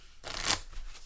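Vintage NASCAR USPCC playing cards are shuffled once, close up, in a single quick riffling burst lasting about a third of a second.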